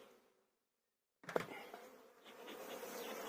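Honeybees hum and buzz close by at the hive after a brief silence, a steady droning swarm sound with no talking.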